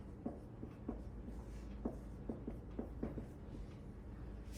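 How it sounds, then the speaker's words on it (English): Handwriting on paper during a plant biology lab, soft scratchy pen strokes in short irregular bursts, faint and close. "So I'm just going to write dominant"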